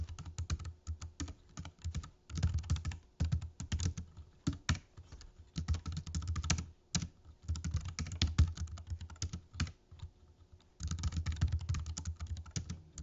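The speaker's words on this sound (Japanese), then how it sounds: "じゃあ実際のタイピング音を聞いてみましょう。" Fingers type on a compact mobile keyboard paired with an iPad Pro, a close, steady clatter of light key taps in bursts with brief pauses, and no voices.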